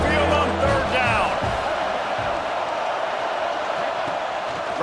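A stadium crowd roars in EA Sports College Football 26, a wide continuous rumble of Alabama fans on a third down, with a commentator's voice over the opening moments.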